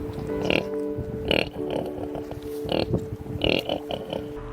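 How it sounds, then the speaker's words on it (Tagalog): A mother sow gives soft, rhythmic grunts to her nursing piglets, a string of low, close grunts in short bursts with brief pauses between them. "kinakantahan nila ang kanilang mga biik habang dumidede sa kanila"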